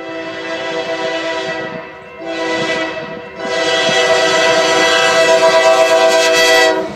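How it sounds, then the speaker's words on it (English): A Norfolk Southern auto rack freight train rumbles past close by at Raisin Center, Michigan, its horn blaring in long sustained blasts with brief gaps, growing louder and fuller toward the end. "As you guys can hear, there's a train coming"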